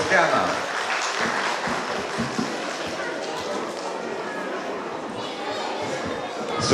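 An audience at a festival of traditional customs and Christmas carols applauds with dense, sustained clapping, crowd chatter and voices mixed through it from start to finish.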